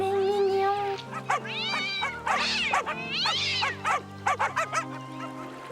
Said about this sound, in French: Regarde le pauvre chaton.